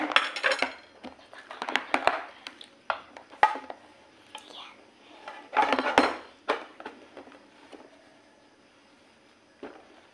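Plastic and metal clatters come as a child's lunch box container is closed with its lid: a scatter of close clacks, taps and rattles in uneven bursts, separated by quiet pauses.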